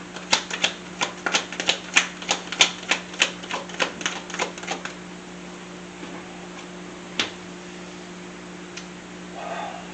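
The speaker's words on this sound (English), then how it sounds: "these cards are loud." Rapid crisp clicks and snaps of tarot cards being handled, a quick burst of taps that thins out into a few isolated clicks over a low hum.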